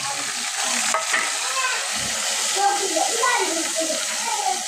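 Turmeric, coriander and chilli powders with ginger garlic paste and green chillies fry in hot oil with a steady broadband sizzle, stirred in the pan, loud and continuous throughout.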